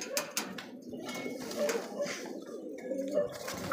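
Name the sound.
exhibition pigeons cooing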